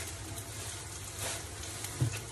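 Garlic dropped into hot oil in a pan during home cooking of a chicken curry, giving a steady low sizzle with a brief louder crackle near the end, no talking.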